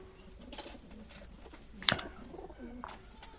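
Pigeons coo softly nearby on a farm, a few low throaty calls spread across the moment, with one sharper burst of noise midway.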